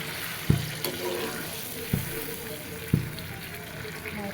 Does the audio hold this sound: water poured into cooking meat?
yes